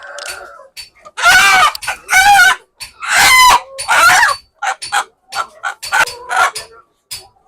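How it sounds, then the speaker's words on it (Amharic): Habesha chickens at an Easter market squawk and cluck in loud, close bursts, several sharp calls in a row followed by quieter clucking, with no talk over them. "ከፍተኛ ዶሮ ቆንጆ ዶሮ የሀበሻ ዶሮ ነው።"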